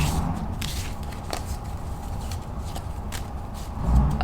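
Tarot cards are shuffled close by, with soft, irregular papery riffles and light taps that repeat quietly over a low background, ending in a slightly louder bump.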